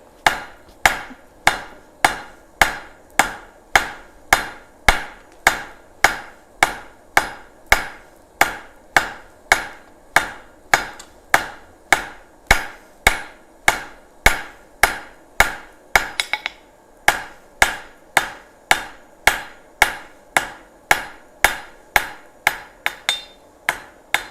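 A hammer rings against hot metal on a blacksmith's anvil in rapid, steady strikes, about two per second, loud and close, with one brief pause midway and no talk.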